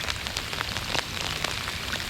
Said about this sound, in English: during this heavy rain